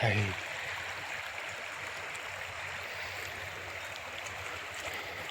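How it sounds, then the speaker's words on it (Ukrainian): A clear river running through the Atacama Desert in Chile gives a continuous, even rush of flowing water, steady and fairly close, with no pauses. "Супер речка посреди пустыни. и на ней жизнь."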